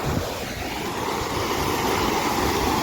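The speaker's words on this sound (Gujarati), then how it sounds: "એકદમ મસ્ત મજાનો ધોધ છે, નાનકડો, અને પાણી પણ ખૂબ ચોખ્ખું છે" A small waterfall on a clear-watered river, a steady broad rush of falling water that holds an even, full level throughout, with no voices over it.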